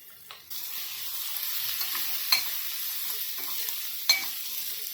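A spoon stirs Kashmiri red chili powder into prawn masala frying in a pan, a soft steady sizzle running throughout with a couple of sharp scrapes of the utensil against the pan, no voices.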